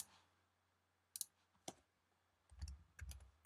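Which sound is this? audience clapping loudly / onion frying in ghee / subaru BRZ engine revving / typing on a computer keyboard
typing on a computer keyboard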